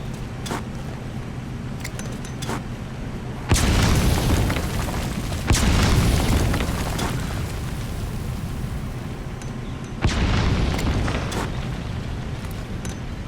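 In a video game, a separator tank explodes in loud, deep booming bursts. Two big blasts stand out over a continuous roaring rumble of fire and debris.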